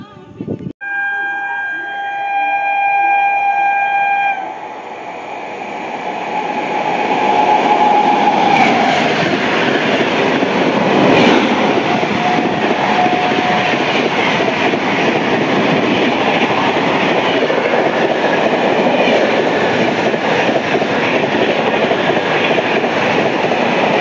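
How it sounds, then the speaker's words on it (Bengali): A Baruipara–Sealdah local train pulls out of platform 1A at Baruipara station, a few horn-like tones at the start giving way to a loud, building rumble and rattle of wagons rolling past. "তার নির্দিষ্ট টাইমে বারুইপাড়া স্টেশন থেকে ছেড়ে চলে যাচ্ছে 1-এর A প্ল্যাটফর্ম থেকে"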